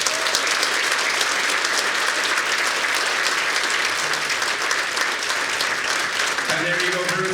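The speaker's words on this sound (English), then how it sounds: "Now let's give Bruce a big round of applause" Banquet audience at a sports hall of fame induction giving sustained applause, a loud, even wash of clapping from a large crowd, with faint voices emerging near the end.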